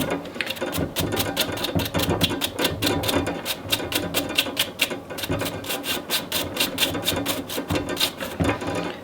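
A brush scrubs the threaded muzzle of a 22LR rimfire rifle barrel in quick, rhythmic back-and-forth strokes, steady and close for several seconds.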